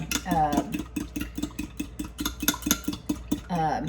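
A fork or whisk beats rehydrated dehydrated eggs in a bowl with quick, evenly spaced clicking strokes, and a person talks briefly at the start and end.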